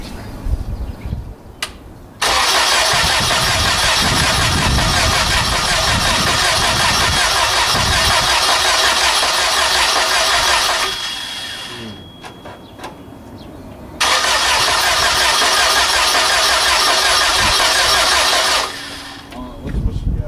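A gaseous-fueled engine on a test run cranks and fires into a loud, steady roar for several seconds, stops with a quieter gap, then starts again and runs hard before cutting out. Voices are heard faintly around it.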